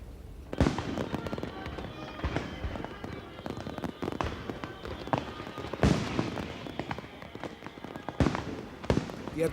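Fireworks burst over the Thames off Greenwich's Royal Naval College for P&O's 150th birthday, a rapid string of loud, sharp bangs and crackling explosions spread through the clip, with no voices.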